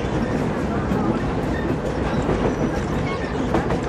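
A narrow-gauge train runs on the Ełk–Sypitki line, heard from on board as a loud, continuous rumble with faint rhythmic wheel clatter throughout.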